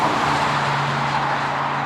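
Steady engine drone and road rumble from a car cruising along the Pacific Coast with a shifting problem, a 300ZX or 928, continuous and close with no talk.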